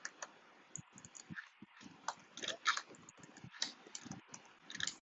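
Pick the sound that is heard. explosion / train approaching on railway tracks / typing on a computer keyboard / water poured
typing on a computer keyboard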